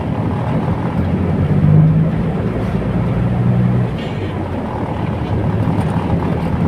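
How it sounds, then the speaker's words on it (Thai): A heavy excavator approaching at a rural dirt pit, its diesel engine droning loudly and steadily with low rumbling throughout, growing slightly louder before easing off. "รถดุดมาแล้ว"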